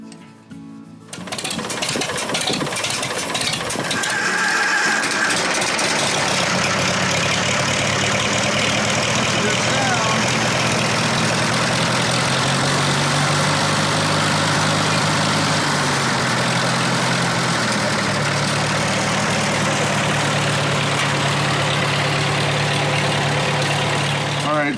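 Small farm engine idling steadily after a carburetor repair with a sticking needle, a continuous loud rumbling drone that runs nearly the whole stretch after a short quiet start.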